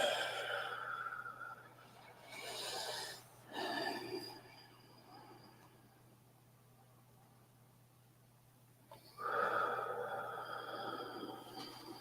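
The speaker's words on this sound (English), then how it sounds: "Deeply inhale and exhale 3 times again." Deep breaths in and out, three slow rounds of audible inhaling and exhaling close to the listener, separated by quiet pauses.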